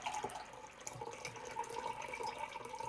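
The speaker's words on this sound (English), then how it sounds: "Let's just do a level of cold water, 250 mils." Cold water runs into a measuring cup at a sink, a steady close trickle of splashing and filling with no talk, part of preparing a Canadian military ration meal.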